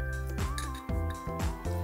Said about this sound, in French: Un petit tour de cuillère pour bien le mélanger.